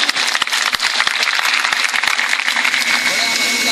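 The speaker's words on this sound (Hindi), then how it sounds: "आपकी इजाजत हो तो एक बार तालियां बजा दीजिए।" Audience at a mushaira in Jhinjhana giving a round of applause, dense crowd clapping with sharp individual claps up front, loud and continuous, with a voice speaking over it in places.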